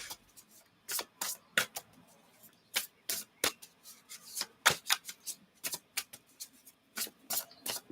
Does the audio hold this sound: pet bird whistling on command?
no